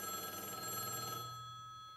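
A telephone bell rings in rapid trilling bursts, loud and close, then cuts off and fades into quiet room tone.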